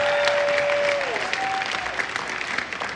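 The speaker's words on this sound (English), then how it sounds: "give them a round of applause, please" A live audience keeps up sustained applause while someone speaks over it into a microphone, a faint ringing tone sitting briefly beneath the clapping.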